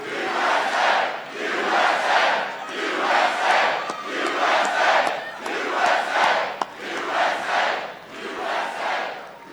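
A large crowd at a presidential rally in Lebanon, Ohio, chants and roars in rhythmic waves, loud and sustained, with each surge rising and falling about once a second.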